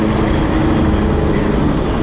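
A loud, continuous low engine rumble from a carbureted Honda Hornet motorcycle, steady and close, with a throaty drone and no talking.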